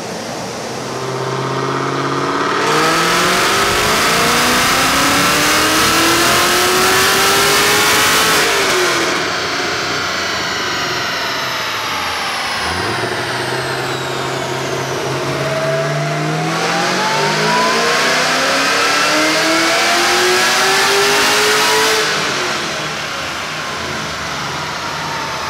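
Magnuson-supercharged Chevy SS V8 revving on a dyno, loud and close, with two long sweeping pulls that climb high, drop back, then surge again with supercharger whine, no talking over it.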